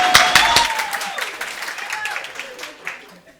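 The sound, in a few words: audience clapping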